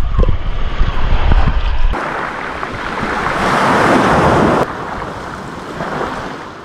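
Sea waves break and wash onto a deserted beach that can only be reached by sea, a loud continuous surf with wind buffeting the microphone and no voices.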